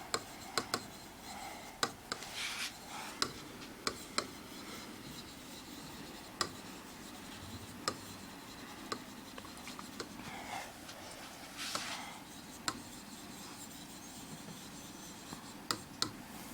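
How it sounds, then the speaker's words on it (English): Hand writing during an English vocabulary lesson, with faint scratchy strokes and scattered light taps from pen or chalk on a board, quiet against a low room background. "I do write it."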